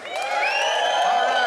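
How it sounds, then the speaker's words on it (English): An outdoor crowd at a benefit concert cheering and whooping loudly for a performer named Bob, a continuous swell of voices with high shouts rising over it. "Let's give a cheer for Bob"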